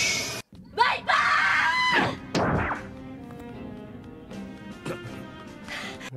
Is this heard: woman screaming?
yes